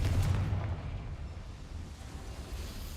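Confringo fire spell blasting in Hogwarts Legacy, a heavy low explosive burst at the start that settles into a rumbling, windy roar and fades, with no one talking.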